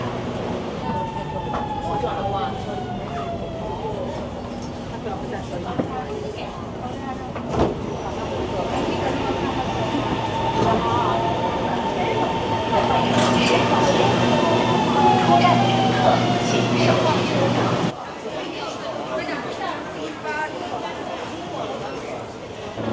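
Inside a busy Shanghai metro station, a train rumbles and whines with rising and falling tones, while people talk in the echoing space around it.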